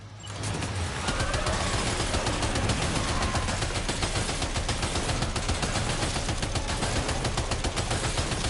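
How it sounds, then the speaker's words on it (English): Dense, sustained gunfire during a firefight in Death Stranding 2, a loud unbroken rattle of rapid shots lasting several seconds with no pauses. "Opening fire now"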